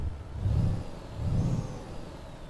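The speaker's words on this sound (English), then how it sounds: "And outside, listen to the engine." Renault Magnum truck engine in Euro Truck Simulator 2, heard from outside the cab: a low rumbling drone that swells twice in slow surges, moderately loud with no talking.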